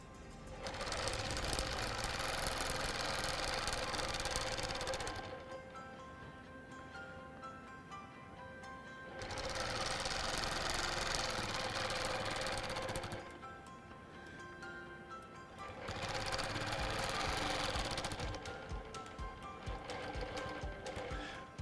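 A sewing machine stitches straight quilting lines with a 1/4 inch hopping foot, running in three long bursts of steady rapid whirring, each several seconds long, separated by quieter pauses, close and alone without talk.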